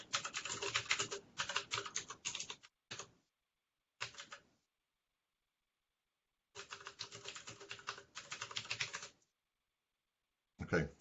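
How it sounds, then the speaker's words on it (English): Computer keyboard typing comes in quick clattering bursts of keystrokes separated by stretches of silence, fairly close and moderately loud, during an online meeting. "I'm just typing what you said in the IRC."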